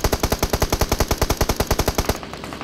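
Rapid automatic gunfire in the BGMI mobile battle royale game, a loud, close, evenly spaced burst of about twenty shots that stops abruptly near the end.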